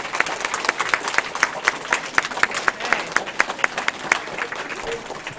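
A room full of kids claps together on a video call, a dense patter of hand claps with distinct sharp individual claps popping out at a steady pace throughout.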